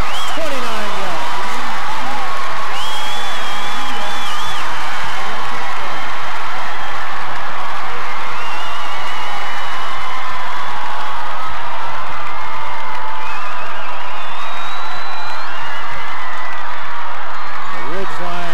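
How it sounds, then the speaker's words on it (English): A stadium crowd roars and cheers in a sustained wash of noise with whoops and applause after a football touchdown, loud and distant, with a commentator talking over it. "The Ridgeline crowd erupts"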